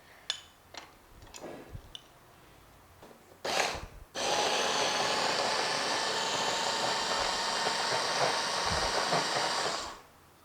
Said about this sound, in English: I am going to put into the blender and blend it.